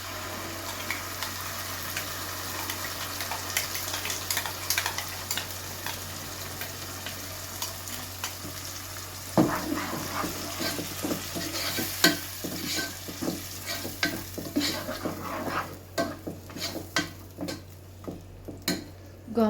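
Sliced onion sizzles in a pan, then a freshly ground paste goes in and is stirred, with a steady frying hiss under scraping and clinking utensil sounds that grow busier and more irregular in the second half.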